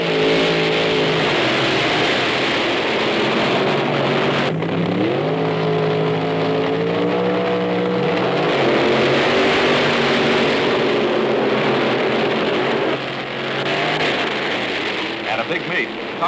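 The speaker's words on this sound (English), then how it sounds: "When the car fires, you're ready to go." A 1965 drag racing car's engine roars loudly and steadily down the drag strip, its pitch climbing and shifting as it accelerates, with a continuous, dense mechanical drone throughout.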